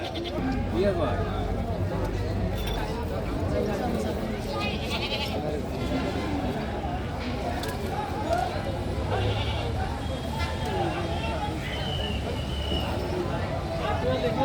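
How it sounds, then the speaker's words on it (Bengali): Goats bleat repeatedly at a goat market held on the Hajirpara high school field, their calls rising over continuous crowd chatter and talk throughout. "হাজিরপাড়া হাই স্কুল মাঠ ছাগলের বাজার আপনারা দেখছেন"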